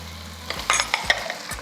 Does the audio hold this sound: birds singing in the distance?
no